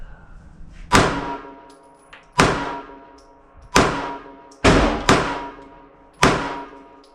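Ruger Security 380 pistol fired left-handed at an outdoor range target: a measured string of sharp, loud, close reports, roughly one every second or so, each followed by a ringing tail.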